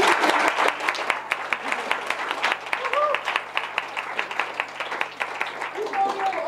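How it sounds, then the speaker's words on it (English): An audience applauds at the close of a presentation during a summer detox and nutrition information session at a natural therapy college: dense, steady clapping from many hands, fairly close, running throughout. "a big round of applause for Leonie, one of our wonderful teachers here at AIS"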